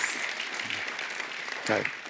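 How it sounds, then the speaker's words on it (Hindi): A TV show studio audience applauds to welcome a guest, continuous clapping running throughout while someone speaks over it. "आप सबकी जोरदार तालियों में स्वागत करना चाहूंगा"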